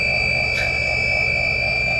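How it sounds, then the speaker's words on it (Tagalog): An engine-room alarm on a MAN B&W 5S60ME-C8.2 marine diesel goes off after a pressure transmitter wire is pulled, a steady buzzing tone held loud over constant machinery rumble. "Oh, alarm naman yan."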